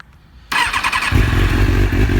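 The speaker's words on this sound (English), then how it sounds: "the next thing you want to do is definitely start the bike" A motorcycle engine cranks briefly and then catches, settling quickly into a loud, steady, close-up idle.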